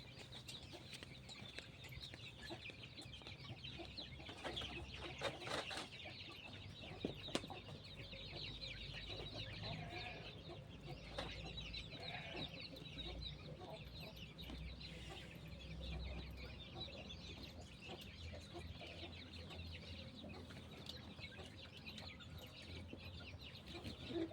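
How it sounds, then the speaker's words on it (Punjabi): A hen clucks on and off in a quiet yard, soft and somewhat distant, with other faint bird sounds around. "ਮੁਰਗੀ ਬੱਚਿਆਂ ਦੇ ਮਾਰਦੀ ਲੱਗਦੀ ਆ"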